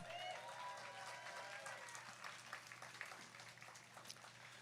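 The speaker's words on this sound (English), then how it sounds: "Ladies and gentlemen, one more round of applause for 5280 a cappella" Audience applause at a Donor Dash charity event for the 5280 a cappella group, a faint, distant wash of clapping with cheers and voices mixed in, steady throughout.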